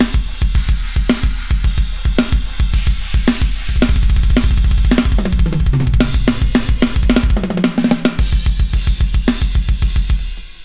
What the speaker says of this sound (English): And the drums sound like this.